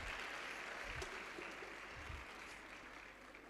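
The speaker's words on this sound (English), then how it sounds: "A round of applause for them, please." Applause from an audience at a youth week event comes across as a faint, distant, steady patter of clapping across a large room, with no voices over it.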